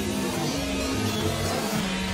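A synth recording layered on itself and heavily time-stretched forms a dense, smeared wash of sustained tones. It stays at an even, steady loudness for about two seconds, with no talking.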